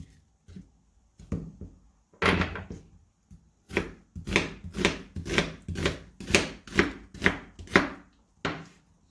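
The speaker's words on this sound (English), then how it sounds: "So just cut them in small pieces like this, and then you fry it with butter." A knife chops food into small pieces on a board, starting with a few scattered cuts and then settling into a quick, steady run of about a dozen loud, close strikes, with no talking.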